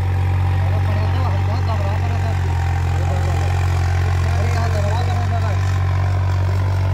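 Loud, steady low rumble of a tractor engine hauling a trailer, an unbroken close-range drone with a voice talking over it.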